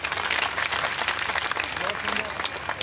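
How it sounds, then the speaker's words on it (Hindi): Lively audience clapping at a Bhagwat saptah religious gathering in Tughlakabad, Delhi, a dense flurry of hand claps lasting a few seconds with no talk over it. "इसलिए अब इनके लिए भी जोरदार ताली बजाए इनके लिए।"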